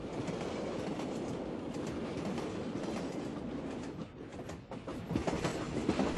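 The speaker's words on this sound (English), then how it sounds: "The train finally emerges from the tunnel and arrives at its destination, the Jungfraujoch railway station." A train on the line to Jungfraujoch rumbles through a tunnel, a steady, fairly quiet roar with faint rhythmic wheel clatter and a few brief squeals near the end, with no talking.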